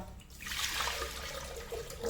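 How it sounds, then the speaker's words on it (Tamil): Water pours and splashes steadily into a clay pot for a couple of seconds, fairly quiet and close. "இந்த தண்ணி ஊற்றிடுவோம்ப்பா."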